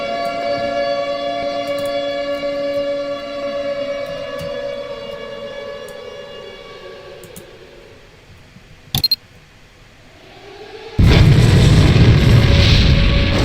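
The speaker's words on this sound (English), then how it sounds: "Missile away!" A missile in Garry's Mod launches under a long wailing siren-like tone that fades, followed by a brief clank and then a loud, sustained roaring burst at the end.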